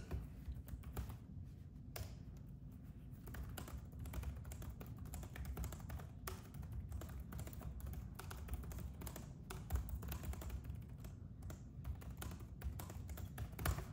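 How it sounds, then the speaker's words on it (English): Rapid, continuous tapping on a Lenovo Legion Pro 5i gaming laptop keyboard, close and fairly quiet, with irregular bursts of clicks throughout and no talking. "Keyboard feels amazing too. It's an okay amount of noise."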